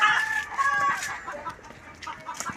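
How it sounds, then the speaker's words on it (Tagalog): Several farmyard chickens cluck loudly and close by while laying eggs, short overlapping squawks and cackles with a rooster-like call, no talk. "Mga nangingitlog ang manok."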